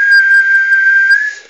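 A single steady whistle holds one pitch for over a second, thin and slightly filtered as if coming through a radio, then fades out.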